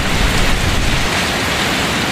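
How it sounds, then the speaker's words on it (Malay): Rain pours down as a broad, continuous rushing hiss, close and fairly loud for a couple of seconds. "jadikan hujan ini hujan yang bermanfaat"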